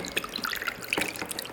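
Water trickles and splashes into a glass holding 60 ml of Glenmorangie single malt whisky, a short, close, light pour with small drips and no talking.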